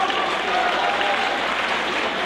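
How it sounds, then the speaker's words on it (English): Crowd applause fills a high school girls basketball gym, steady and broadband throughout, loud and close with a faint voice underneath. "That's a nice round of applause from the crowd."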